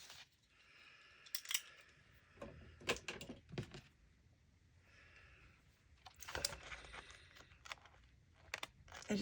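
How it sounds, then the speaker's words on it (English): Scissors snip through a cardstock journal page in a series of quiet, crisp cuts that come in short clusters with pauses between them, heard up close in a calm room. "I'm cutting the actual page of my journal, which is very nerve-wracking"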